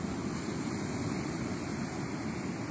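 Ocean surf washes steadily onto a beach, a continuous broad roar of breaking waves with no pauses, loud and close, mixed with some wind rumble and no voices.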